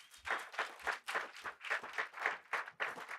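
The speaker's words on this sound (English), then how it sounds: "let's give a big round of applause for our award winners tonight" An audience claps for award winners at a community awards event, a short burst of applause with distinct overlapping claps at moderate distance.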